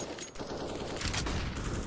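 Rapid gunfire in the video game CS:GO, a dense burst of shots rattling for about two seconds, fairly close within the game mix.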